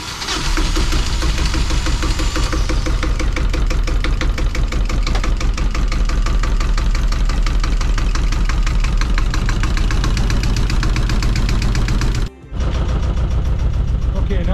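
Yanmar 1GM single-cylinder marine diesel running steadily with a loud, rapid knocking idle, then cutting out briefly near the end before resuming.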